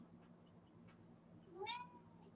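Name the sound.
cat meowing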